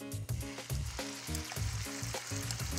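Beef slices go into warm oil in a wok and fry with a bright, close, continuous sizzle, while clattering stirs and a low rhythmic tonal thumping run throughout, with no talking.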